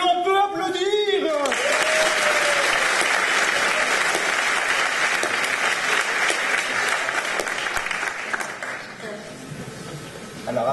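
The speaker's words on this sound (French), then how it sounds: "Magnifique performance donc de la part de Carole que l'on peut applaudir." Studio audience on a French word game show applauding a contestant's performance, a dense sustained burst of clapping that starts after a brief voice and fades toward the end, where speech resumes.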